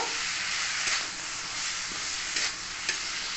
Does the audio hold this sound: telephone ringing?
no